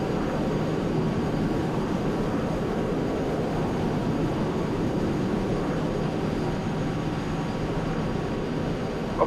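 An airliner in Flight Simulator X takes off from Edinburgh, with a steady, continuous engine roar at moderate loudness, unchanging throughout and heard alone.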